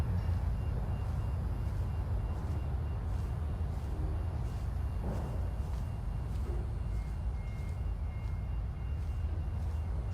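A truck or car with reversing beeps in the video game Everything: a steady stream of regular electronic beeps over a loud, continuous low engine rumble.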